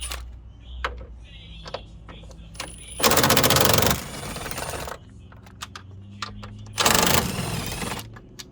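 A power tool backing out 13mm bolts from a Ram truck dashboard, two loud rapid ratcheting bursts of about a second each, separated by quieter clicks, handling noises and a low voice.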